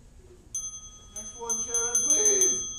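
Several bright metallic bell dings ring out in quick succession at an improv comedy show, fairly close and clear, with a faint voice beneath.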